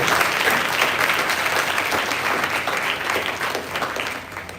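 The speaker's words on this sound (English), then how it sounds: "I think we can welcome them a little louder with our applause." An audience at an inter-school debate applauds to welcome the judges, a dense, steady burst of clapping from a large hall crowd that gradually eases off.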